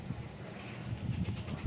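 Racing pigeons kept in a loft, with soft low cooing coming in intermittent bursts over a steady background hiss, moderately close and fairly quiet.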